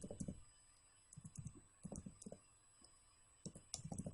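Code is typed on a computer keyboard in short irregular bursts of quick clicking keystrokes, close and fairly quiet, with pauses between bursts and no talking.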